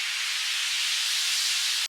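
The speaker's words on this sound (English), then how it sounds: "I added a basic sweep FX. And here I modulated the frequency rate to achieve that nice left and right panning effect" A synthesized sweep effect from Serum, a steady bright hiss-like noise wash that sweeps between left and right, alone without talk.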